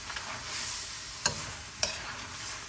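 Chicken stir fry sizzling in a pan, a steady bright hiss broken by two brief sharp clatters of a utensil.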